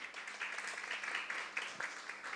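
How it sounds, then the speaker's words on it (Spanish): Scattered audience applause after an introduction at a dengue-prevention training session for schools, soft and fairly steady with a few sharper claps standing out over 2 seconds. "Un aplauso para Corina"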